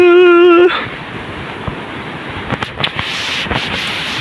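Strong wind gusting by the sea, a loud steady roar of wind buffeting the microphone with brief bursts and knocks, after a short opening tone.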